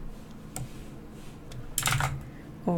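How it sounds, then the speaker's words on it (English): A mechanical computer keyboard clacks in scattered, fairly faint keystrokes, with a short denser burst near the end against a quiet background. "I have a mechanical keyboard, so it's gonna be loud."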